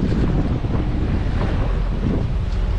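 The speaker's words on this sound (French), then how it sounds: "Un peu de houle." Steady roar of sea swell and wind buffeting the microphone aboard a sailboat, a continuous rushing wash with no voices.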